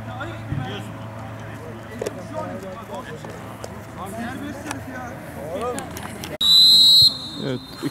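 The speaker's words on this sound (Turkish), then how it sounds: "İkinci yarı hakemin düdüğüyle başlıyor." A referee's whistle starts the second half of a neighborhood football match in Fethiye with one sharp, loud sustained blast. Before it, outdoor background noise and scattered voices are heard.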